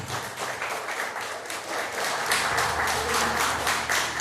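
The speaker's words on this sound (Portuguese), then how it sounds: "dá uma salva de palmas para Jesus." A church congregation breaks into sustained applause, a dense, steady wash of many hands clapping that grows slightly louder midway and continues throughout.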